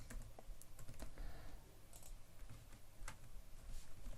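Quiet, close typing on a computer keyboard, with irregular clicks and taps spread through four seconds and no talk.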